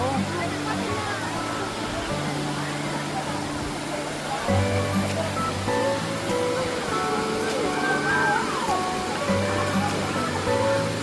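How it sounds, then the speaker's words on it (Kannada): Kanthapara waterfall gives a continuous broad rush of falling water, steady and fairly loud, with people talking over it throughout. "ಚೆನ್ನಾಗಿದೆ ಕಾಂತಾಪುರ ಫಾಲ್ಸ್."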